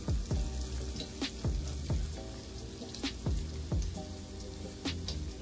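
Beer battered cod frying in a pan, a steady hiss of oil broken by repeated sharp pops and crackles at irregular intervals, close up with no talking.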